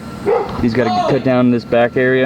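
A dog barks and yips repeatedly in the background of a garage workshop where a 1998 Jeep Grand Cherokee ZJ is being cut for rock sliders, the barks mixed with someone talking.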